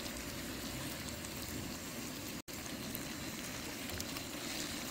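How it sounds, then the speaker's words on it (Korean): Steady crackling sizzle of pork belly frying on a hot grill outdoors at a campsite, dense and continuous, with a brief dropout midway. "지글지글 소리가 군침이 나시지요."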